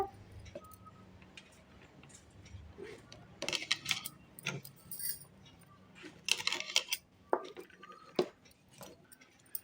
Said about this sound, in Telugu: ఇప్పుడు ఈ పచ్చి కొబ్బరి అల్లము పచ్చిమిరపకాయ మిక్సీ జార్లో వేస్తున్నాను